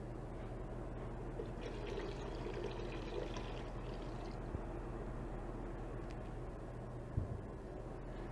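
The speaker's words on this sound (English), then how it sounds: "And I'm going to add the 4 cups of water." Four cups of water pour into a soup pot in a steady, continuous stream with a faint trickling quality, fairly quiet over a low hum, with no voices.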